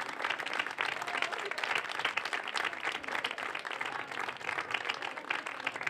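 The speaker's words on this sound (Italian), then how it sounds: "vorrei che fate un forte applauso per queste associazioni" Steady, dense applause from a crowd, many hands clapping continuously without pause at a fairly even level throughout.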